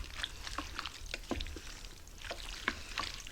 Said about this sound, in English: let's go ahead and give this a mix